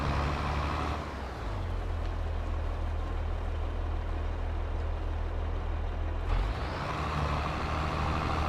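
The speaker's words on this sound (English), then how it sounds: "I left my tractor running." Tractor engine idling steadily in Farming Simulator 22, a constant low mechanical drone that dips briefly near the start and picks back up toward the end, heard alone without talk.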